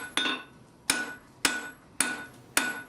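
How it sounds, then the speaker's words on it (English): Blacksmith's hammer striking a metal bar placed squarely in the center of an anvil during basic forging: five sharp, ringing blows at an even, unhurried pace, each decaying quickly, with no voices. "position the metal directly in the center of the anvil and to hit it squarely with the face of the hammer"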